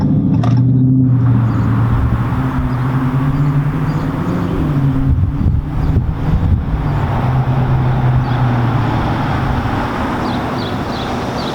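A Dodge Charger Scat Pack with about 60,000 miles rolls along at low speed and is brought in to park. A steady, loud, low engine rumble and hum carry throughout, with no voices.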